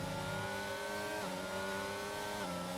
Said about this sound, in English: here's the McLaren